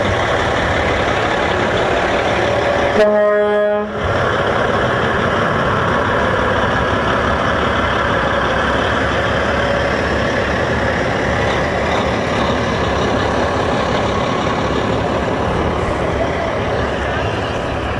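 Antique tractors and trucks rumble past at a small-town parade, a steady loud engine drone with a brief horn-like tone early on, continuous throughout.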